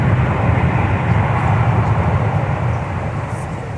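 A jet airliner rolls for takeoff on runway 17 at Minneapolis–St. Paul Airport, a steady, loud engine roar with deep rumble holding throughout and easing slightly near the end.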